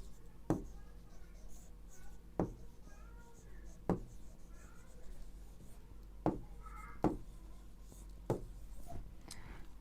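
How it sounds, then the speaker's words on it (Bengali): Pen or marker strokes scratch across a writing surface in a quiet room during a Bengali grammar lesson, several sharp taps and scrapes spaced a second or two apart, fairly close and soft, with no talking. "আমরা লিখলাম কানিজ বই পড়ে।"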